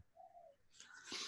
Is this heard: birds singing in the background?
yes